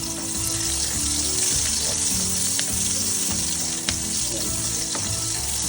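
Ingredients browning in a hot pan for pancit give a steady, close sizzle and frying crackle with occasional stirring scrapes, loud and continuous, with no talking.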